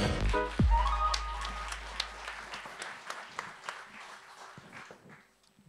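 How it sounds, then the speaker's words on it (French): Applause from a conference audience at a Nantes talk on artificial intelligence in healthcare, welcoming two speakers; dense clapping fills the room after a brief thump, gradually thinning out over several seconds. "Je vous demande un tonnerre d'applaudissements pour Jérôme Rigaud et Christine vidal gomel"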